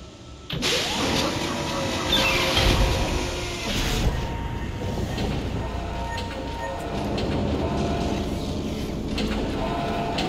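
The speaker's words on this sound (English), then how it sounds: "The tram is blocking the whole system." In the Dead Space video game, a tram rumbles and clatters loudly with a sudden onset, its heavy mechanical grinding and sharp metallic clacks continuing steadily alongside a sustained whine.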